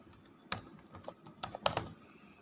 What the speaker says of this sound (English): So we're gonna type in a command called digital write.